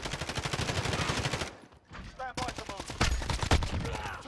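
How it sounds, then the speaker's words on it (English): AN-94 rifle fire in Call of Duty: Modern Warfare, rapid bursts of close, loud gunshots with a brief lull midway, then more shots and scattered game effects, with talking under the action. "Those were some tough shots right there."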